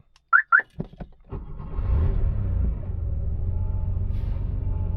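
A 1982 Porsche 911SC car alarm gives two short electronic chirps, then several clicks of locks. After that the engine starts with a low, steady idle rumble close by.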